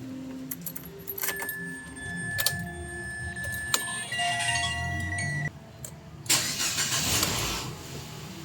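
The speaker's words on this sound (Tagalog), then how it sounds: "ako na lang pala mag-start itong makina para makita ko yung palo ng idle niya" Keys jingle before a Mitsubishi Xpander engine cranks and catches around the midpoint, then settles into a steady idle with a brief louder surge.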